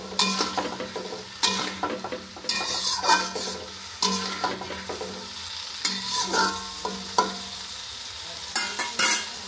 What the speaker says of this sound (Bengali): বন্ধুরা এই যে আমার ফুলকপি রান্না চলছে।